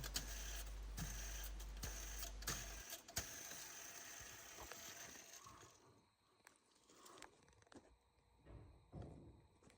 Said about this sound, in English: just listen how much wear it is in this guidance pulley and also into the tensioner